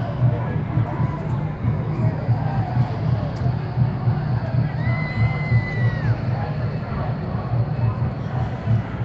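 A large crowd at an Oakland street march in solidarity with Ferguson, a dense continuous hubbub of many voices with scattered shouts and cheers, steady and fairly loud throughout.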